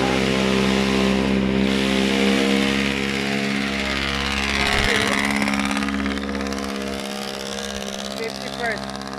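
A jeepney passes on a street at People's Park in Tagaytay City, its engine rumbling and swelling nearby then fading, under steady talk.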